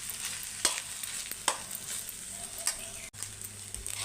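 Rice being stirred with ghee in a pan for palak rice, a steady soft sizzle under a few sharp spoon scrapes against the pan, close and fairly quiet, with no talking.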